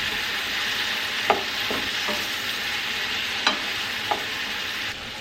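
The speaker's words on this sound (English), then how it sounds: "let that cook out while my mushrooms saute" Mushrooms sauté in a pan with a splash of cooking sherry, giving a soft, steady sizzle with a few sharp scrapes and clinks from stirring. No one speaks.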